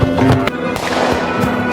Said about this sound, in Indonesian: mengejar dan melepaskan beberapa kali tembakan